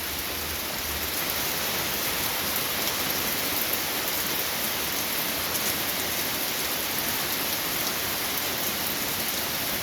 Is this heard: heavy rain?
yes